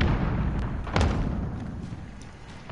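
Grenade blast in a modern first-person shooter video game, a heavy low boom with rumbling debris that decays over a couple of seconds, heard alone without talk.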